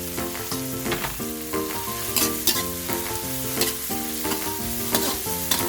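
Onions frying in a pan give a continuous close sizzle, with frequent clinks and scrapes of a utensil stirring against the metal at an uneven rhythm; no voices.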